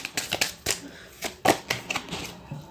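Tarot cards being shuffled and drawn, a run of crisp, papery flicks and snaps in irregular bursts, close and fairly loud, with no talking over them.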